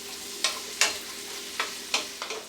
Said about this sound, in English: continue cooking your onions until it starts to get nice and tender